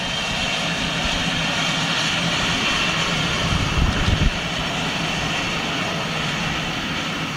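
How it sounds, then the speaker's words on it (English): A small jet taking off at Luton Airport, a steady broad engine roar held at moderate distance throughout, swelling briefly midway with a low rumble, with no talk over it. "Another little jet coming out here."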